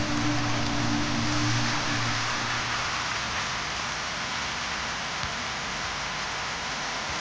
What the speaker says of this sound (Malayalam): എന്തൊരു മഴയത്